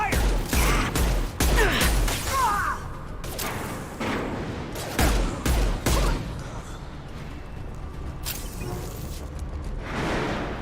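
Gunfire in the Mass Effect 2 video game comes as bursts of sharp, near shots in clusters, with mechanical clanks and whooshes between volleys and some quieter stretches.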